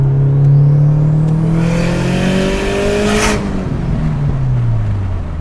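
Turbocharged Subaru engine while driving, loud and close, rising in pitch as it accelerates, then a sharp turbo whoosh and a falling engine note as the throttle lifts.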